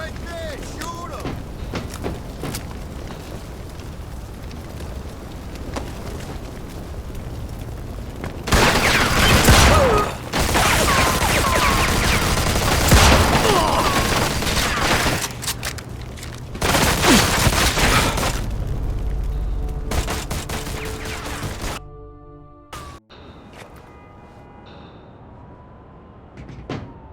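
Gunfire in Mafia 2 erupts in loud bursts and booming thuds, in several dense clusters separated by calmer stretches, ending in a quieter tail, with shouting voices mixed throughout.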